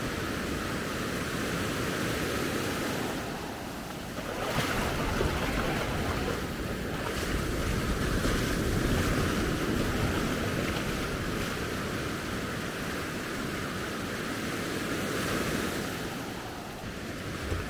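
Steady ocean waves wash and churn against a boat hull off Maspalomas, Gran Canaria, with constant wind buffeting the microphone and no voices throughout.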